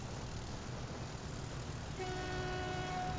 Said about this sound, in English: There's no use honking, son.